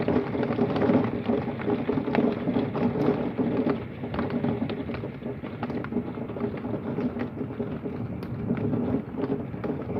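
Heavy rain pours steadily during a severe thunderstorm with hail and mild wind gusts, a loud, dense hiss broken by sharp drop and gust impacts throughout.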